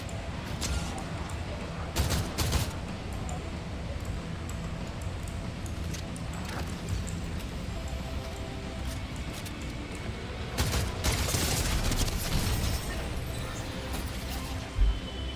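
SMG fire in the video game Fortnite, scattered short rapid bursts and sharp cracks over a continuous bed of game noise, with a louder stretch of shooting toward the end.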